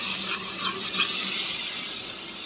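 Water splashed into dry spices frying in a pan for sev bhaji, producing a steady, loud hiss and sizzle that fills the whole moment without pause.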